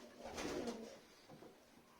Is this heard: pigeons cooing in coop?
yes